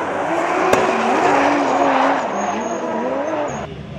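A drift car skids and squeals its tires at Pathum Thani Speedway during a DC Drift event, the loud screech sustained and wavering over engine roar for several seconds before easing off.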